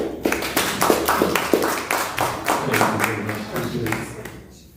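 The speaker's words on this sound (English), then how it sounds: "warm, welcoming applause" Dense, steady applause at an artist talk, with overlapping claps, fairly close and loud, fading out toward the end.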